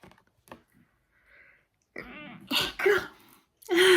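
A single close sneeze bursts out after some quiet sniffing and small noises, followed by a short breathy cough-like exhale.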